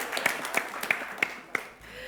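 Quick, evenly spaced claps from a studio audience at a TVRI Sumsel school quiz show, about five sharp hits in a steady rhythm over a faint room background.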